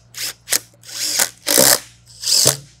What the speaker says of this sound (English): you can use an impact just to snug them up.